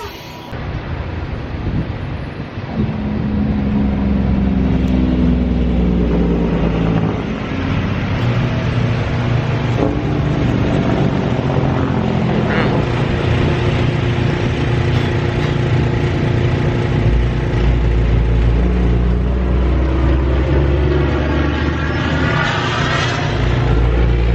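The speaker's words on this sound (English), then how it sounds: "we're just gonna pop a little air in there" A portable air pump inflating a car tire runs steadily for over twenty seconds, a loud close mechanical drone with a buzzing whine that holds a fairly constant pitch after starting up.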